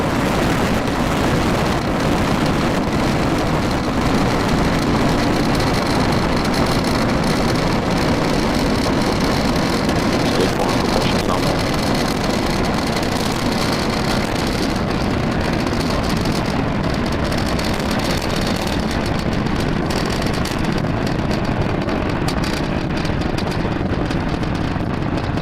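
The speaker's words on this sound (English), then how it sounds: "we have just had liftoff of our Falcon-9 vehicle carrying our Starlink" SpaceX Falcon 9 rocket lifting off from LC-40 carrying Starlink satellites, a loud, unbroken broadband roar that holds steady for the whole stretch and thins slightly in its upper hiss toward the end.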